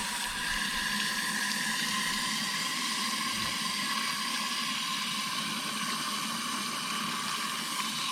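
Water gushes out of a Caterpillar 3412 engine aftercooler during cleaning in a steady, noisy stream, a continuous hissing splash that stays even throughout with no voices.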